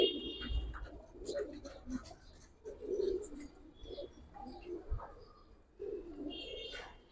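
Soft coos of Giribaz pigeons repeat close by in low, throaty bursts, with faint chirps and light rustling between them.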